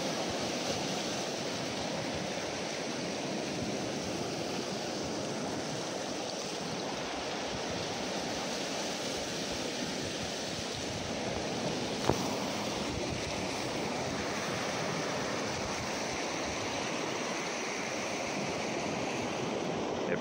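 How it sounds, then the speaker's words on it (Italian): Sea waves at Punta Chiappa on the Portofino promontory, a steady broadband wash of surf rolling continuously with a brief sharper splash midway, no voices. "e qui c'è il mare, solo il mare."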